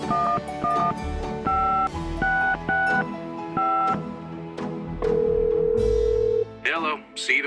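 Telephone keypad tones in the Gabriel Knight: Sins of the Fathers adventure game as a travel agent's number is dialed, a quick series of paired beeps over background music, then a steady dial tone and a short electronic chirp.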